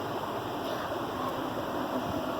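Water coming to a boil in a pot on the stove before lentils go in for haleem, a steady, continuous rushing hiss with no breaks.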